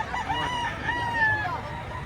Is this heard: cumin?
no